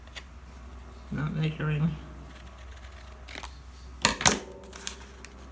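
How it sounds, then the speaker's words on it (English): Scissors snipping the corners off a wide paper tag for a junk journal: a brief spoken remark comes first, then a couple of crisp, close cuts in quick succession. "Now I'm going to cut some corners."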